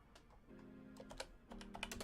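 Quick, uneven keystrokes tap on a flat computer keyboard, close and fairly quiet, in short clustered bursts with no voices.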